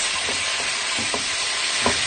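Meat being seared in a pot sizzles steadily as it is turned and stirred, with a few soft scraping clacks rising over the constant frying hiss; no voices.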